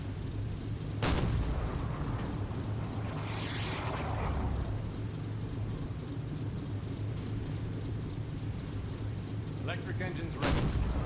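Naval gunfire hitting a submarine in Silent Hunter 4 comes through as booming impacts. Two sharp blasts land over a steady low engine rumble, and voices talk throughout.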